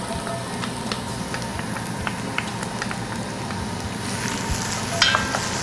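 Sliced garlic cloves fry in a soup pot for Portuguese kale and potato soup, giving a close, dense, crackling sizzle with a few faint utensil taps and no voices.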